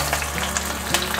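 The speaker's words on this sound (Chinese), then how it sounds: "把蒸好的素鱼放进来煎" Steamed vegetarian fish frying in a generous amount of oil in a pan, giving a steady close sizzle and crackle with a few brighter pops, no talking.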